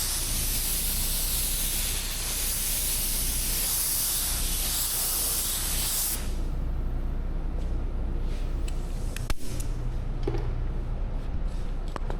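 Spray gun applying sealer to a Kia K5 car panel, a steady close hiss lasting about six seconds, then stopping and leaving low room noise with a few faint clicks.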